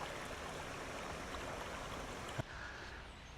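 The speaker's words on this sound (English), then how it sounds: "This is a really tiny creek out here in West Texas." A very small West Texas creek gives a continuous soft rushing trickle of flowing water, even and unbroken, with a faint click near the end.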